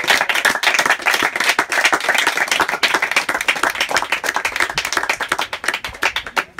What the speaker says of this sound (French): Applaudissez d'abord pour quelqu'un.